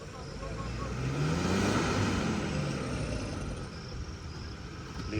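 A Maruti Gypsy's engine rumbles and revs up offroad as the clutch is let out, a rising roar that swells then settles, with people talking nearby.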